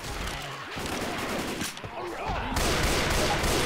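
Video game gunfire in a Left 4 Dead-style co-op shooter rattles out in rapid bursts, with a short pause partway through before the shooting resumes louder.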